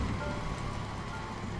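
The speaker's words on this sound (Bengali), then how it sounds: "দেখলাম বাইরের বৃষ্টিটা এক নাগাড়ে হয়েই চলেছে।" Steady rain falls outside at night, a dense, even hiss of drops with no breaks, moderately quiet and unbroken by voices.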